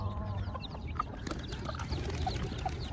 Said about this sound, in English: The pigeons are out here with the chickens now.